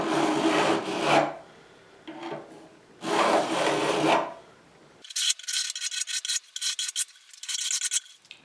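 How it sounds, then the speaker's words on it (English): Metal file rasping down the side of a guitar fretboard to bevel the fret ends: two long, loud, close strokes, followed by a run of quicker, brighter, rhythmic scraping strokes, no voices. "run the file down the side of the fretboard at a slight angle, just to bevel the ends of those frets over a little bit"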